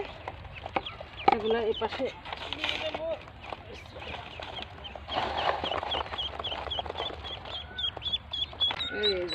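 Many ducklings, a cross of a Belgian drake and a local duck, peeping and chirping in quick, high calls close by, while a person talks over the chatter.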